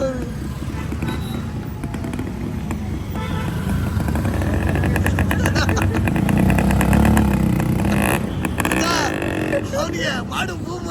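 A motorcycle engine rumbles and revs just behind, rising in a sustained roar through the middle and easing off, with people talking loudly over it.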